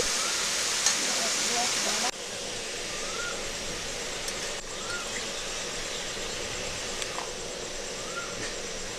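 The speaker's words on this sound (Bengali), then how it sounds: "ফড়ং লাউটা দিয়ে দিলাম কেটে রাখা লাউ নেড়ে চেড়ে নিচ্ছি" Chopped bottle gourd sizzles steadily in a pan after bay leaf and whole cumin go in, with a dense crackling hiss and occasional light stirring scrapes, the sizzle dropping slightly in intensity partway through.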